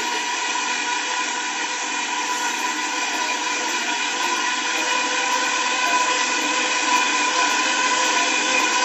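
A blender whirs steadily and loudly while mayonnaise is made, with oil poured in slowly; the motor runs unbroken at an even pitch with no voices.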